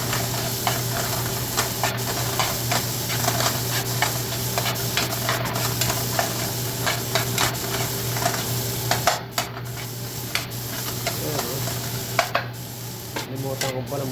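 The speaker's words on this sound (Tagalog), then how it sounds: "Medyo luto-luto yung kamatis. Saka natin lagay yung pusit." Squid drops into a pan of cooked tomatoes and sizzles steadily, with stirring scrapes and occasional sharp clatters over a constant low hum, close by, with no talking.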